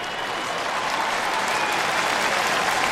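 Stadium crowd at an SDSU vs TCU college football game applauding as an injured player sits up, a broad, steady wash of clapping and cheering filling the space throughout, with no distinct voices on top.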